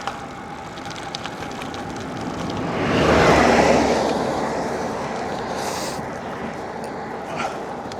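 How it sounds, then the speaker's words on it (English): A car approaches and passes on a remote Australian highway, a broad rushing swell of tyre and engine noise that builds to a loud peak around the middle and slowly fades away over steady wind. "Hear another car coming."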